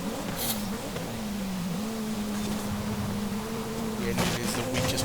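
Car engine in the racing game Forza Horizon 5 during a street endurance race, a continuous droning hum that holds a steady pitch with slight wavers, moderately loud with brief sharper noises near the end.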